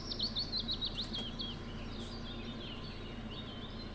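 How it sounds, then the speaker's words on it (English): A magpie calls in a short burst of quick, bright, chattering chirps, fairly close over a steady outdoor background hum. It then falls quieter and more scattered. "Oh, and here's magpie."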